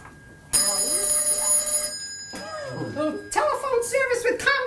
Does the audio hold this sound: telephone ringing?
yes